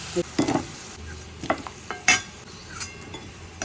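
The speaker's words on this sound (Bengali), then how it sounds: "আলু কিন্তু সেভেন্টি পার্সেন্ট মতন ভাজা হয়ে গেছে" Potato pieces frying in oil in a pan, a soft continuous sizzle broken by close scraping and stirring strokes and a few utensil clinks, with no voices.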